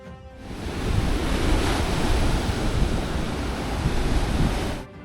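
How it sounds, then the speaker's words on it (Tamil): Broadband surf of morning sea waves at Rock Beach, Pondicherry, a steady wash of breaking water that swells and holds close and loud, with a slight wind-buffeted edge and no voices. "மார்னிங் டைம் கடலோட அந்த அலையோட சவுண்டு கேட்குங்க பார்த்தீங்களா?"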